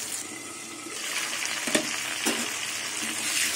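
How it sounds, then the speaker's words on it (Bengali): Potato pieces fry in hot oil with a steady, close sizzle and a couple of brief stirring clatters, with no voices. "আলু ভাজা হয়ে গেছে।"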